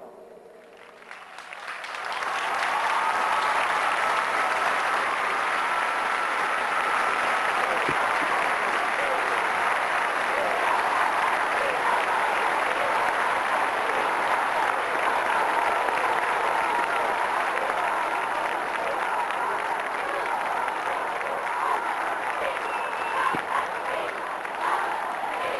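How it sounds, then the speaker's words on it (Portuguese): Pilgrims at the Fátima sanctuary in Portugal give the Pope warm applause, a large crowd clapping loudly and continuously after a brief quieter start, sustained for the whole stretch. "o Papa recebe o caloroso aplauso dos peregrinos fiéis presentes nesse santuário."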